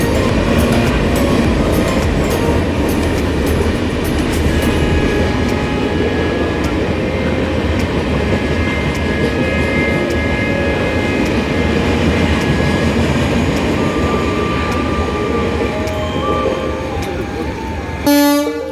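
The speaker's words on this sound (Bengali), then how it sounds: "এটা হাওড়া জনশতাব্দী।" Howrah Jan Shatabdi express train rushing through a station without stopping, a loud continuous rumble and clatter of wagons with horn tones sounding over it, and people talking underneath.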